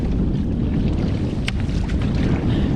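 Strong wind buffets the microphone in a constant low roar during a solo canoe trip in remote Canadian wilderness, with faint water and boat knocks and no talk.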